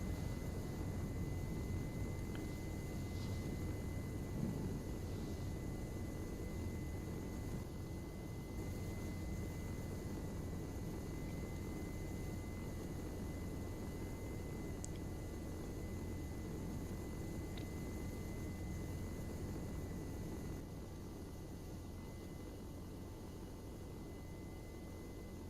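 Helicopter in flight with main and tail rotors turning: a steady, unbroken droning roar with a faint constant whine, heard from inside at an even level for the whole stretch, with no talking.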